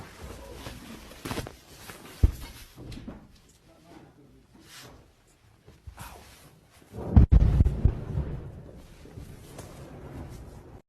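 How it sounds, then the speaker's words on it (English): Deep thunder boom following a lightning flash, a sharp crack-like burst then rolling low rumble in the latter half, preceded by quieter background noise and faint voices. "from the time the light flashed to the time you heard the boom, it was about 6 seconds"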